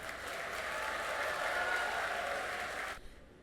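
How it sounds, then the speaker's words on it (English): Audience applause at a college graduation ceremony, a steady hall-wide wash of clapping held for about three seconds before cutting off abruptly. "Let's have a big round of applause for our guest of honor."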